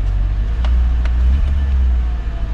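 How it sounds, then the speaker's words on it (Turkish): An idling car engine, one of a set including a BMW M6, 650i, Mercedes C63 AMG, CLS55 AMG and Audi S4, gives a steady low rumble close by with a few faint ticks, and no one talks. "Arabayı şöyle bir 5 dakika falan bir çalıştıracağım"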